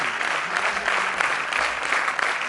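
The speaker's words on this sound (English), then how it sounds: "Can I request the audience to have a huge round of applause for Mr." An audience at an opening ceremony gives loud, sustained applause for an award recipient, the clapping thick and steady from start to finish with slight swells.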